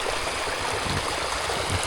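Water flowing in a forest stream near rice paddies, a steady broadband rush and gurgle running continuously without pause at moderate level.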